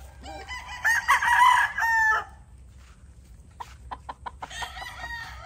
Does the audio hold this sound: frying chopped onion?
no